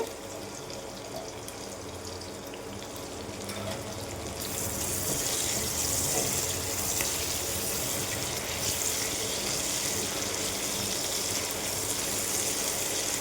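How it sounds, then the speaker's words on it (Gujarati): Chopped vegetables and asafoetida hitting hot oil while making peri peri vermicelli, a steady hiss that starts quieter and then rises to a louder, continuous sizzle partway through. "હિંગ નાખ્યા પછી એમાં આપણે વેજીટેબલ્સ જે કટ કરીને લઈ લીધા છે તે એડ કરી દઈશું"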